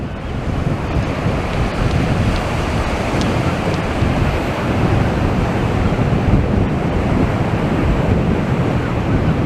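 Strong gusting wind and breaking sea surf on Blackpool beach, a loud, continuous roar of waves mixed with heavy wind buffeting close to the microphone, with no voices.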